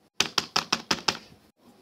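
Typing on a computer keyboard: six crisp, evenly spaced keystrokes close to the mic, then a short pause with faint room noise and no speech.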